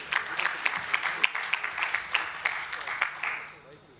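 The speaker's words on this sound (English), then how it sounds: "you can clap, that's good" A small audience at a political speech gives a short round of clapping, distinct claps in a loose steady rhythm that fade out after a few seconds.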